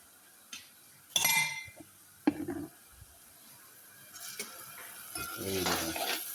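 Mushrooms being sautéed in a pan with tomato, onion and garlic, with bursts of stirring and utensil clinks over a soft sizzle that grows steadier toward the end; no speech.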